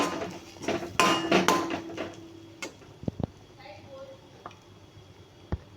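A spoon stirs a spiced filling for stuffed papad in a pan, with scraping and clinking against the metal at first. Scattered sharp taps follow, and a voice talks over parts of it.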